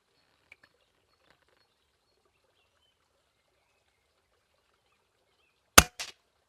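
A single sharp shot from an Artemis P15 air rifle, loud and close, followed by a short fainter report or impact a moment later, in an otherwise quiet setting.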